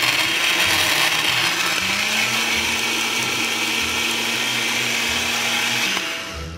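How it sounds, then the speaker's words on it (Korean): A blender grinding strawberries with a little water whirs loudly and steadily, a continuous grinding motor drone that holds for several seconds, then begins to wind down at the end. "믹서기에다가 딸기 툭툭 잘라주신 거 넣어주신 다음에요"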